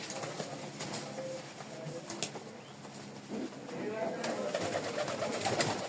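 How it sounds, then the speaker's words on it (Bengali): Pigeons in a breeding loft for sale coo softly, with some wing flapping and rustling, moderately close against a low background murmur. "এখানে অনেক কবুতরই আছে"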